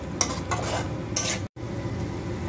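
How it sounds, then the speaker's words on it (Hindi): Mixed vegetables of potato, capsicum, peas and carrot with green coriander stir-fry in a pan, giving a steady close sizzle with intermittent scraping stirs and a brief gap. "अभी हरी धनिया है, इसको शामिल कर देते हैं। भून लेते हैं"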